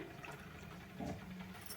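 Water pours briefly into a mixer jar with salt for chutney, a short, quiet gurgling splash.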